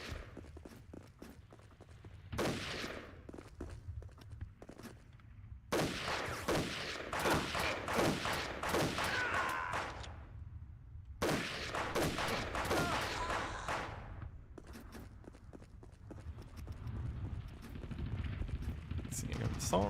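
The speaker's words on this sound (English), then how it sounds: "Assault rifle." Bursts of assault rifle fire from an original Xbox shooter come in three long rattling volleys separated by quieter gaps, with a voice talking between them.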